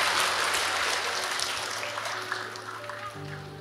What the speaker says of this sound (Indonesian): Tepuk tangan buat anak kedua.